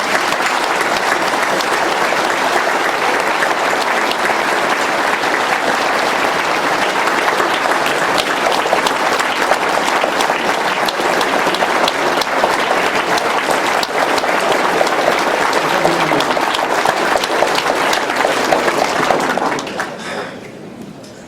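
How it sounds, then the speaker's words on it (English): At a sheriff's press conference, a crowd gives long, steady applause that holds for about twenty seconds before tapering off at the end. "I'd like to give them a round of applause because they've done it"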